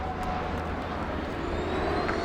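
An Italian Air Force C-27J Spartan twin-turboprop flies aerobatic rolls at an air show, its engine roar a steady, broad distant rumble throughout.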